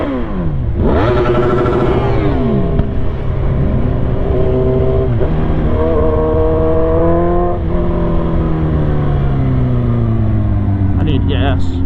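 A Yamaha R1 motorcycle's exhaust roars up close during a ride, revving upward through repeated gear shifts with sweeping pitch climbs and drops, loud and continuous.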